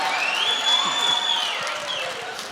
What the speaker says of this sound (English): Too many people clap for that.